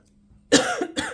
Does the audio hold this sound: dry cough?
yes